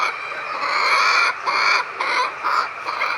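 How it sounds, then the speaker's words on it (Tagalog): Quail about to lay eggs call continuously in a dense, buzzy chorus that swells in rhythmic pulses, close and fairly loud, with no talking. "Humuhuni po siya. Malapit na pong mangitlog yan."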